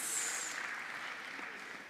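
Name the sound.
audience applause for moderator and panelists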